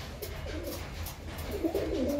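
Low, repeated cooing from pigeons in a home loft, close and moderately quiet, forming two soft bursts of throaty calls with no talk.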